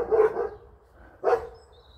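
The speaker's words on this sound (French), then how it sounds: "Et les chiens qui aboient" Two loud barks from a dog, a bouvier among the dogs, heard outdoors along a rural walking trail; the barks come about a second apart, with quiet in between.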